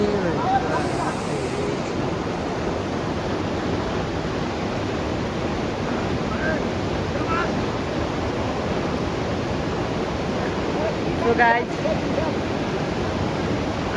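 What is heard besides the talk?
water of a big river as a buffalo crosses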